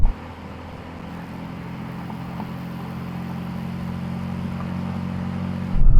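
A Mercedes-AMG C63 accelerates hard in a drag race, giving a steady loud engine drone that builds gradually. A sharp burst near the end marks a gear change.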